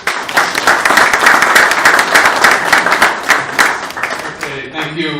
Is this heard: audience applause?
yes